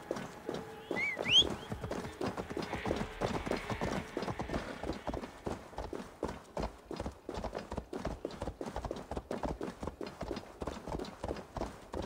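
Horse hooves clop in a steady, brisk rhythm for the whole stretch, with a short whinny near the start, in the video game Assassin's Creed Valhalla.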